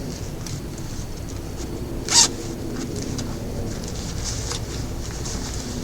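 A single quick zip on a small fabric zipper pouch made from fused thread scraps, one brief bright rasp over a steady low room background.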